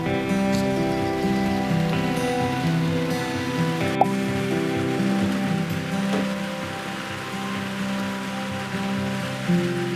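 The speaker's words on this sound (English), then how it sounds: "Oh, it's raining so hard." Heavy rain falling on Yakushima island, a steady dense hiss of drops hitting surfaces throughout, with a faint tonal hum in the background and no voices.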